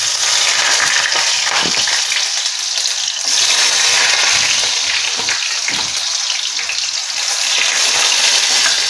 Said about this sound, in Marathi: ह्या तेलामध्ये हे टोमॅटो आता मी सोडून देते